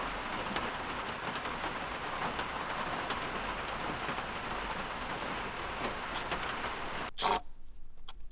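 Steady rain falls in a thick, continuous hiss during a storm with frequent lightning, holding even for most of the stretch before a sudden sharp burst near the end.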